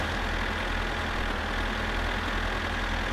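Tractor engine in the video game My Summer Car idling with a steady low rumble and dense, even broadband noise, continuous and close for the whole stretch.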